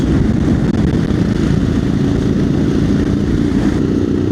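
A Royal Enfield Himalayan motorcycle's engine rumbles loud and continuous on a morning moorland ride, a steady low drone with wind roar and no talk.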